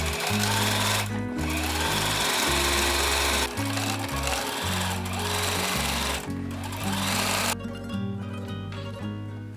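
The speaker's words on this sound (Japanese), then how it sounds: "肩を縫おう。" A sewing machine stitches a garment's shoulder seam in loud, steady runs broken by short stops, each burst a dense mechanical whir with a low motor hum beneath.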